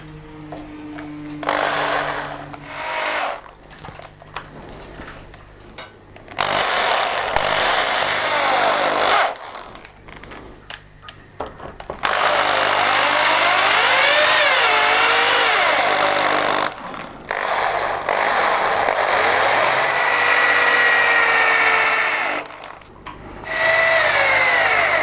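A power drill drives oversized screws into a wooden bulkhead for a strip-built kayak, with loud whining bursts of the motor rising and falling in pitch, short pauses, and several long sustained runs close by.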